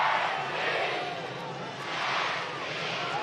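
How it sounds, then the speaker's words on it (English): Stadium crowd at a North Carolina FC versus Charlotte Independence football match roaring steadily, swelling and dipping in broad waves of cheering noise. "Crowd really getting into it."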